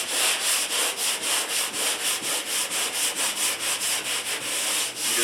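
Sanding a primed ceiling by hand with 220 grit sanding mesh: a steady, close back-and-forth scratching rhythm of roughly four strokes per second, continuous and alone.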